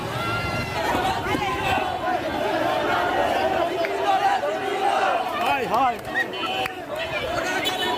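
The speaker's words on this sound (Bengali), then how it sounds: "গণভবন থেকে আজকে উল্লাসের মিছিল" A dense victory celebration procession crowd at Ganabhaban in Dhaka keeps up a continuous roar of shouting, cheering and chatter, loud and close, with individual voices rising above the din.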